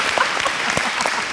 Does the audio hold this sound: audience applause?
yes